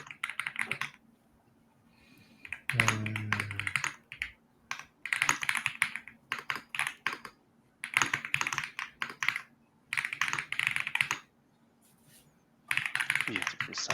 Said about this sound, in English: Do you not like the clacky keys?